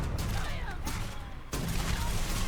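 Rapid bursts of gunfire from a gun in the Starfield video game crackle through a dense, busy game soundscape, with a brief drop in the middle before the shooting resumes at moderate level.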